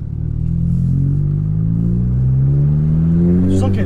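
An Audi A1 quattro engine pulls loud and close through a hairpin bend, its note climbing steadily in pitch as revs build at low speed, with a brief clatter near the end.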